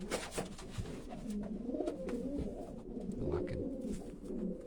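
A racing pigeon cock coos softly in low, rolling repeated phrases, faint and close against a quiet loft background.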